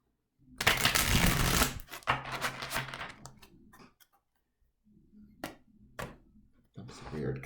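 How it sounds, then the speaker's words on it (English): Tarot cards riffle and slap together in crisp bursts, a long shuffle followed by a few shorter ones with quiet gaps between, close and clear. "I'm going to shuffle one more time"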